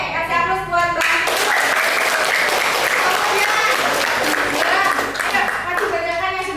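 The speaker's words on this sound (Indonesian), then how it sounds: "kasih aplaus buat Mbak Anti" Applause from an audience in a classroom or training session for a participant, loud and steady clapping that swells in after a second and fades near the end, with a few voices mixed in.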